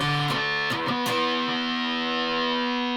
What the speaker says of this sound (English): it's basically like the high strings of an 8-string bass, which means it does take the distortion really well